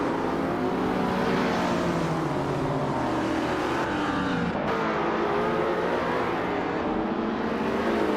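Racing cars roar off the start line together at a Mazda circuit short loop, among them a 1987 Ferrari F40, a dense continuous engine drone with shifting revs and no talk.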